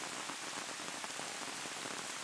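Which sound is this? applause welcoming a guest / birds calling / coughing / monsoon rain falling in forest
monsoon rain falling in forest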